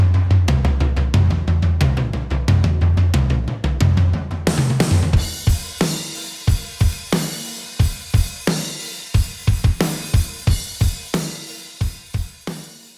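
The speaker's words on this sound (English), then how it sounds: "And all together, my drums sound like this." A full mixed drum kit plays together, first dense and steady with busy cymbals and low drums, then shifting to sharp separate kick and snare hits with ringing cymbal wash, loud and close with no talking.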